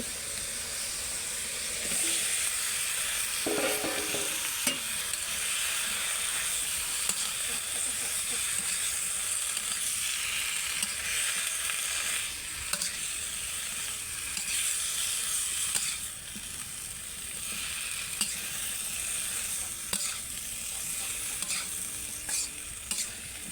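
Leafy greens (shak) hit a hot frying pan and sizzle loudly and steadily, with occasional stirring scrapes and knocks over a constant hiss that lasts the whole time.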